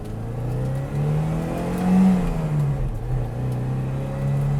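Modified 1970 Alfa Romeo Giulia 1300TI engine drones steadily from inside the moving car, its pitch rising and falling gently with the throttle, heard alone without talking.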